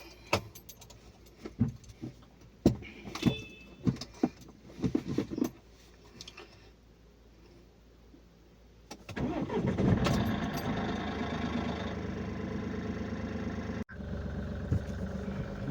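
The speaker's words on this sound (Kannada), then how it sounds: "ಬರ್ರಿ ಅದು ಗಾಡಿ ಚಲೋ ಮಾಡೋಣ." A vehicle engine cranks and starts after a series of clicks and key jangles, then settles into a steady idle nearby, with a brief cut before the idle resumes; no talk.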